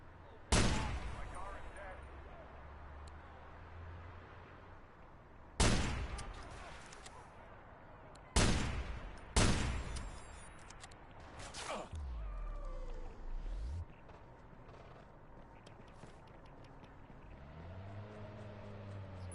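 Loud gunshots ring out in Watch Dogs, four spaced blasts with echoing tails, followed by a car engine revving and some rumbling motion noise.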